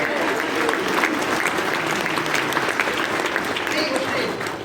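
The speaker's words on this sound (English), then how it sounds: "Round of applause for that." Audience applause fills a convention hall during a celebrity Q&A panel in Austin, a steady dense wash of clapping from a large crowd that holds evenly throughout, with some voices mixed in beneath it.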